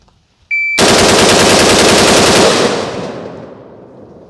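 An AR-style rifle fitted with a super safety trigger fires a fast, continuous string of shots from a fresh 30-round magazine. The burst is loud and close, then trails off into ringing echo.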